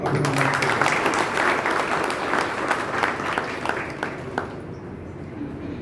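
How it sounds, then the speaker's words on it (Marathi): An audience at a hospital gathering claps in a dense, sustained round of applause that stays strong for several seconds and then thins toward the end. "आपण टाळ्या वाजून"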